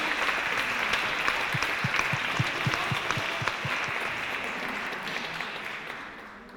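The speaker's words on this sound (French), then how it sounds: "j'aimerais bien qu'on les applaudisse" An audience at an association's welcome event applauds its volunteers, a dense, even wash of clapping with a few distinct nearby claps, slowly fading toward the end.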